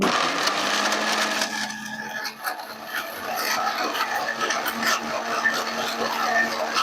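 An electric blender whirs continuously, grinding carrot, apple, beetroot, ginger and black raisins with a little water into juice, a steady motor whine with rough churning and rattling throughout.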